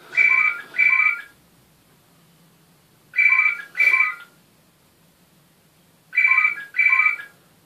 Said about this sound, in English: Sorry about the annoying phone.